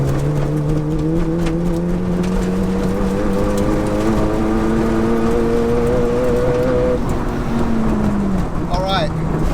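Stage 4 SEAT Leon Cupra pulling hard in fourth gear with anti-lag and the turbo spooling, a loud, steadily rising engine drone for several seconds, then a lift-off with a brief high chirp near the end.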